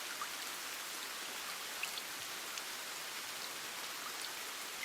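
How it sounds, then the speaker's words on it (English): Heavy rain falls against a window in a steady, continuous hiss with occasional faint drop ticks, even and unbroken throughout, with no voices. "the heavy, continuous sound of the rain falling gently against your window"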